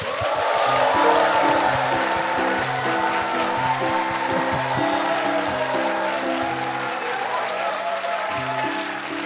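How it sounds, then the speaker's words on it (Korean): Studio audience at a Korean current-affairs talk show breaking into applause as the show opens, a broad, sustained wash of clapping running alongside a repeating bass-heavy music cue. "여러분의 힘찬 박수와 함께 시작하겠습니다"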